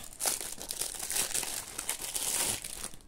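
Crinkly plastic packaging from a Temu order crackles and rustles steadily as it is opened by hand, close and fairly loud, with no talking.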